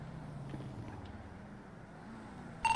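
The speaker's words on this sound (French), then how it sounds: "Voiture noire devant." A car in the Yakuza video game drives with a faint, low, steady engine hum for nearly three seconds, then a sudden brighter tonal burst cuts in at the very end.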